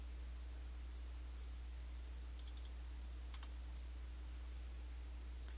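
A few quick mouse clicks, close and clean, come while someone works in Vertex BD wood-framing software, under a steady low hum.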